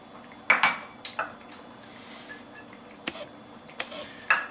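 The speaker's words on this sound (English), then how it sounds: "we're going to dump in our shallots and our ginger" Shallots, ginger and garlic tumble into a cooking pot for a Burmese-style pork curry, giving a few close, sharp clatters and scrapes of utensil against pot separated by quieter pauses, with no talking.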